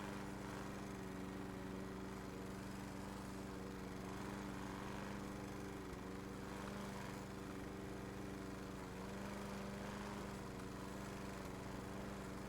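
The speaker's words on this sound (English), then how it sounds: "I think I'm mowing grass." A lawn mower cutting grass in a video game, with no catcher bag fitted: a continuous buzzing motor drone that is quiet and even throughout, with no voices over it.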